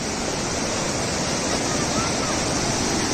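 Rushing river water at a forest river crossing during heavy rain, a loud, steady, broadband roar that fills the whole clip with no pauses.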